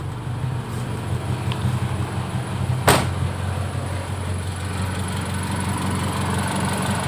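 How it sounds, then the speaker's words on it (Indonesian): A car engine idles steadily close by, a low even hum running throughout, broken once by a sharp brief click partway through. "Nah, ini kondisi langsam. Langsamnya masih enak."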